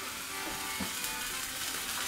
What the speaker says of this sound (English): Our pan's getting nice and hot. A nice sizzle going on.